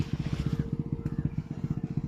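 A motorcycle rides along a sandy village road, its engine thumping in a fast, even rhythm close by, fairly quiet and steady throughout.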